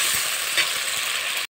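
Spice masala with coriander sizzles steadily in a pan as it is stirred and fried down with a splash of water for a village-style rohu fish curry, a dense, close hiss running without pause for about a second and a half.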